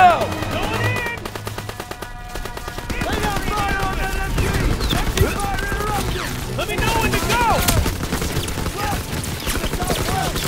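Dense machine gun fire and rifle shots in the World War II shooter Call of Duty WWII, Hill 493 mission, rattling continuously and loudly throughout with battlefield noise and shouting soldiers' voices mixed in.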